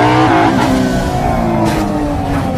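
Engine of a Koenigsegg car in a video game driving over a pothole: a loud, steady roar with rising harmonic tones and brief scuffing bursts, no voices.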